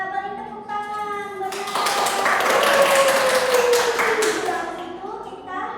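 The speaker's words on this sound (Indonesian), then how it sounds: "Ya, beri tepuk tangan." A classroom of secondary-school students claps together in a short burst of quick, bright applause lasting a few seconds, following a teacher's spoken prompt and with children's voices around it.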